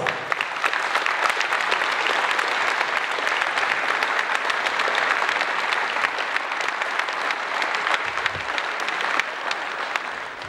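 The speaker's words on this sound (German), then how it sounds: "Kräftigen Applaus!" Dense, steady applause from an audience at the 2014 karate state championship in Uelzen, filling the whole stretch evenly and loudly with no voices over it.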